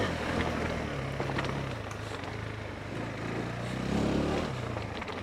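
A KTM 390 Enduro motorcycle is ridden off-road, its steady engine drone rumbling low beneath heavy, continuous wind noise.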